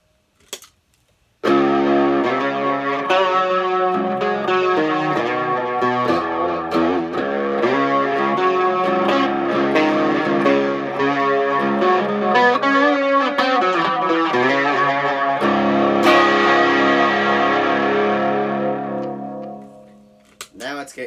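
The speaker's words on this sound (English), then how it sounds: "So I'm gonna play them both clean together, and so here is just this amp, the trainer, and here is just the Ashdown. Here's both." Clean electric guitar played through a trainer amp and an Ashdown amp together in a stereo rig, a loud sustained chordal passage after a brief quiet start, ringing out and fading near the end.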